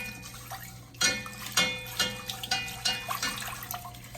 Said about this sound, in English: we're gonna very carefully add the water while we're mixing